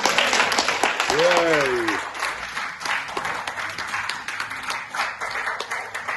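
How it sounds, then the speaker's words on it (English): Audience applause and clapping fill a church conference hall, a steady dense patter under a brief rising-falling vocal tone, with crowd noise continuing throughout. "I said you clap."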